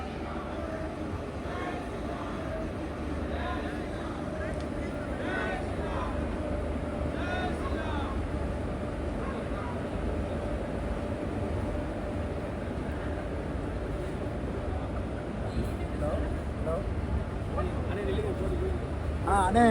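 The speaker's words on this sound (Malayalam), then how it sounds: "കറക്റ്റ് 1:30 തന്നെ അമൃത എക്സ്പ്രസ് ഇതാ രാമേശ്വരം റെയിൽവേ സ്റ്റേഷനിൽ നിന്ന് എടുത്തിരിക്കുകയാണ്" Amritha Express train pulling out of Rameswaram railway station, a steady low rumble and rolling clatter from inside or beside the train, constant and moderately loud for the whole stretch with faint voices mixed in.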